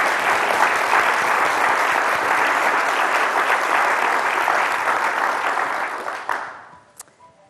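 Audience applause welcoming a speaker at a book talk, a dense sustained wave of clapping that fades out near the end.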